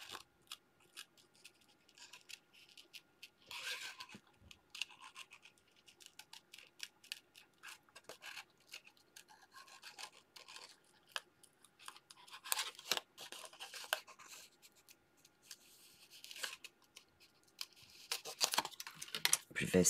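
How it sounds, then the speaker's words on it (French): Scissors snipping around paper flowers cut from navy-blue-edged paper, a close run of irregular small clicks and rustles with pauses between bursts, growing busier toward the end. "je vais donc venir les détourer en laissant un tout petit peu de bleu marine autour"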